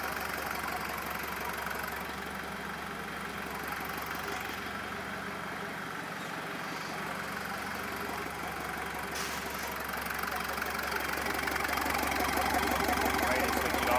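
A fire-damaged wrecker truck's diesel engine, with diesel leaking from the injector lines, idles in a steady, knocking rumble. It runs close and constant while people talk over it.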